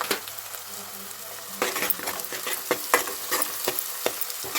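Onion pieces frying with shahjeera in a pan, a steady sizzle with repeated close scraping stirs and light clinks of a spoon against the metal.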